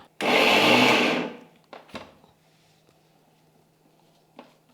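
A mixer grinder whirs loudly for about a second while grinding chana dal coarsely for crisp vadas, then stops abruptly, followed by a couple of clunks and faint knocks, close by with no talk.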